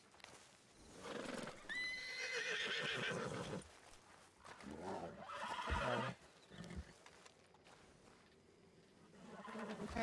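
A runaway horse escaped from the stables in a Western ranch roleplay video game neighs loudly and repeatedly, its whinnies rising over clip-clop trotting hooves throughout, with no talk.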